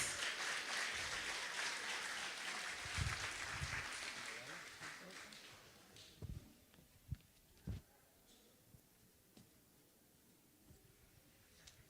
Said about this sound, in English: Rise to your feet and give her a round of applause.